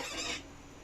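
A Large Black pig lets out one short, loud, shrill squeal that cuts off abruptly, leaving a quieter noisy background behind it.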